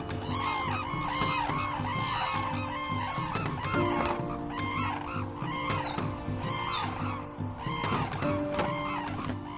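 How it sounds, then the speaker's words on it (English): Flock of red-crowned cranes gathering to feed on a frozen winter morning, a dense chorus of overlapping honking and trumpeting calls, loud and continuous with many birds at varied distances. "a raucous squadron of red-crowned cranes gathers to feed"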